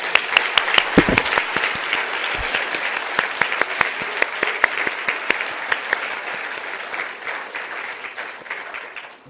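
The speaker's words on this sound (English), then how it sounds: "Can we please give them a big round of applause?" Audience at a student research symposium breaks into sustained applause, a dense wash of many hands clapping that stays loud and steady before slowly thinning toward the end.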